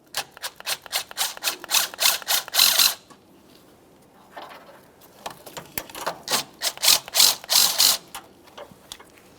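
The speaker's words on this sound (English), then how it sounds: "We'll loosen the mounting nuts just enough that we can remove the J-hook end from the battery tray" A ratchet wrench clicks in quick rapid bursts while loosening the battery J-hook mounting nuts on a 2012-2015 Honda Civic, two close runs of ratcheting separated by a quieter pause.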